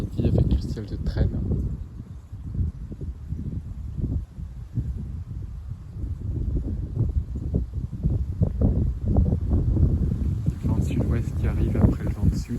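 Strong gusty wind outdoors on a December afternoon, roaring steadily in the low range and buffeting the microphone throughout, with no let-up.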